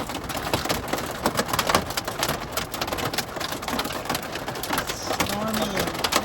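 Rain and hail drum steadily on the roof of a minivan during a storm while camping in Texas, a dense patter with scattered sharper hits throughout, fairly close and continuous.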